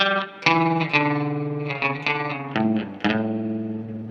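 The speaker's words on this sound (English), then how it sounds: "If we've got the rate and the depth up on this, listen to hear how fast it goes." An electric guitar through a Walrus Fundamental Tremolo with rate and depth turned up plays a few chords and notes, each pulsing in a very fast, warbling, ring-modulator-like tremolo, loud and alone.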